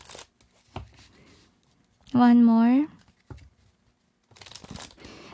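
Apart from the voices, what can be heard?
shuffling tarot cards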